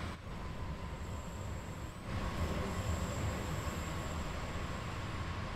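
A simulated train runs on the Luzern–Sursee line in Train Sim World 2, a continuous rumbling roll with squealing wheels that grows louder partway through, with no talk.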